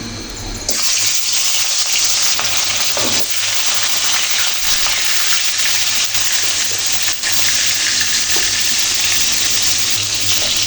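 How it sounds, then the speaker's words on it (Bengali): Fish fries in hot oil with a loud, steady, close sizzle that starts abruptly and roars on without pause. "তেল একদম গরম হয়ে আসছে এরপর মাছগুলো ভেজে নেব"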